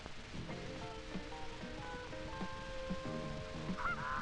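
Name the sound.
Canada geese honking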